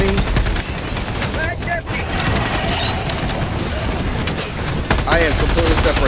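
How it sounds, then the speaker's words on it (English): Artillery barrage in Helldivers 2, a relentless stream of gunfire and blasts hammering close by for the whole stretch, loud and sustained, with voices talking over it. "Artillery on top of me."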